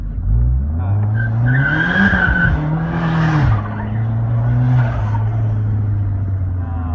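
A Perodua Myvi 1.5 automatic engine, high compression running low boost, revs hard and close, rising and falling in a few loud bursts with a high whine over the steady roar.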